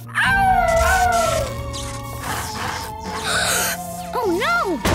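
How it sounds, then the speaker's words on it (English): A cartoon dog howls in a children's animated show, with long wavering howls and whining yelps over music and background effects, close and loud. "Keep howling, Rubble!"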